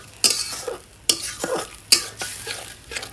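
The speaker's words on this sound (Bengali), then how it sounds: "তো আপনারা মশলা ভালোভাবে কষিয়ে নেবেন" Spices stir-fried in oil in a pan for tengra fish kalia, loud sharp scraping strokes of a spatula at a regular pace over a constant sizzle, close by with no speech.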